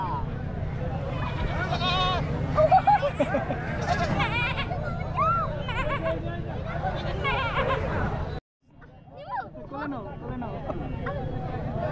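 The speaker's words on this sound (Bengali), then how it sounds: "এই যে ভেড়া" Sheep bleat repeatedly over a busy crowd murmur at an old livestock market in Munshiganj, Bangladesh, several wavering calls close by, with a brief cut to silence before more bleats and chatter resume.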